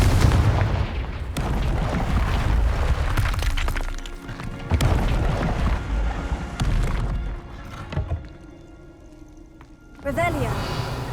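Confringo fire spell explosions in Hogwarts Legacy: several sharp, booming blasts strike at irregular intervals over a rumbling background, with a quieter gap before a final burst.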